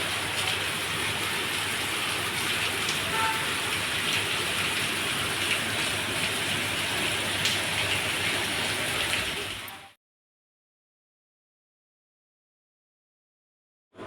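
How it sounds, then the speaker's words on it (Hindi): Heavy rain pours steadily and loudly as a dense, continuous hiss for about ten seconds, then cuts to silence. "तो आप लोगों ने देखा कितनी तेज़ बारिश हो रही है।"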